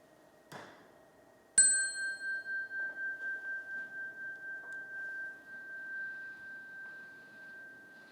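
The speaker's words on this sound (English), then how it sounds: "let the ringing of this chime bring us into this space" A soft knock, then a single chime struck once rings out clearly and sustains with a gentle pulsing shimmer as it slowly fades.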